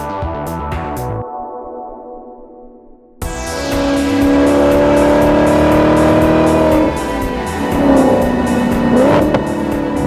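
A 2009 Maserati Quattroporte Sport GTS with a larger-displacement engine revs hard, its exhaust barking loudly and close. Rising and falling engine tones hold for several seconds, following a short burst of music.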